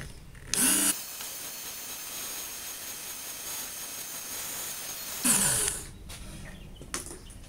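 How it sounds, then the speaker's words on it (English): Work Sharp powered sharpener grinding a serrated knife on its plain edge side: two short loud bursts of whirring abrasive noise, each under half a second, separated by quieter background. "you're only supposed to sharpen the one side that's not serrated"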